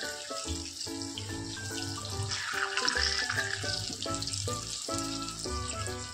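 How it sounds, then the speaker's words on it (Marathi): Vadas frying in hot oil in a home kitchen, a steady close sizzle and crackle running continuously throughout, with clattering of utensils and pans over it. "आता ह्या दुसरी साइड पण आपण 1 मिनिट फ्राय होऊ देऊ आणि मग तेलातून ह्या वड्या काढून घेऊ"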